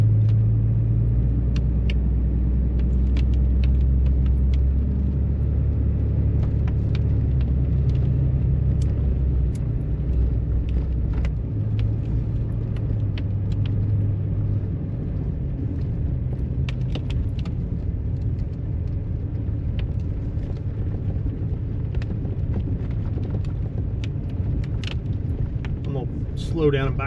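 A truck in 4-wheel drive rolls along a snowy road after a storm in West Virginia, its low engine and tyre rumble steady throughout, close and loud under intermittent talk.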